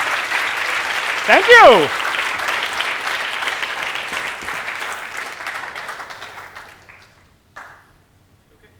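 Applause from a lecture audience after a talk, steady clapping that thins and fades toward the end, with a brief spoken thanks partway through.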